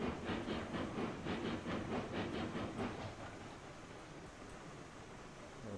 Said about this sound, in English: little warning to the world, the loco is on the move